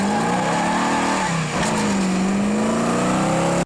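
A 1970 Plymouth Cuda with a 440 Six Pack V8 roars loudly and steadily, its pitch rising through a sustained rev with a brief dip midway.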